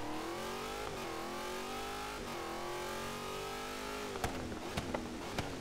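A supercharged car engine in Forza Horizon 3 drones and climbs in pitch, holding high revs, then a few sharp clicks and quick shifts break in near the end.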